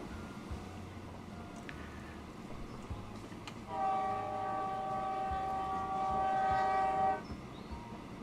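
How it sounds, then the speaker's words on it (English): Electric freight train in the Transport Fever 2 video game rumbles past, its sustained multi-tone horn sounding clearly for about three seconds over the rolling rail noise before cutting off. "An electric freight train."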